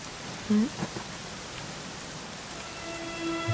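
Steady rain falls in a Dragon Quest XI game scene, a soft continuous hiss with a faint distant rumble of thunder, heard alone with a brief tonal chime near the start.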